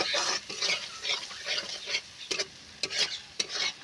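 Masala spices stirred and fried in oil in a pot over a clay stove, a steady scraping stir with soft sizzling, repeated strokes about every half second, close and alone.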